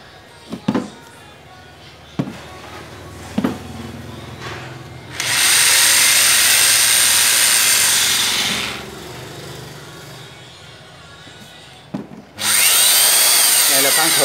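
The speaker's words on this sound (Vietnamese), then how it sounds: "Cái khoan Hiti." A Hitachi power drill starts up and runs at a loud, high-pitched whine for about three seconds, stops, then starts again. Sharp clicks and knocks come between the runs and there is no talking.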